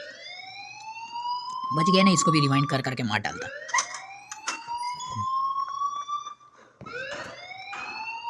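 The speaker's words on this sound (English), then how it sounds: "please turn off that alarm since that's your job" A wailing electronic alarm in the video game Life is Strange rises and sweeps repeatedly, continuing throughout while people talk over it.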